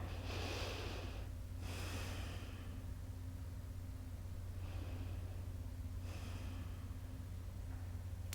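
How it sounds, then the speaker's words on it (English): Slow, deep breaths during a seated yoga pose: two drawn-out airy inhale-exhale cycles, close and quiet, spaced several seconds apart over a low steady room hum. "We'll take a few breaths here."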